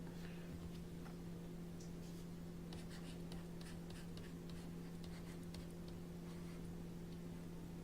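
Soft scratching of a pen or pencil writing by hand on paper, faint, close and quiet, with small irregular strokes over a steady low electrical hum.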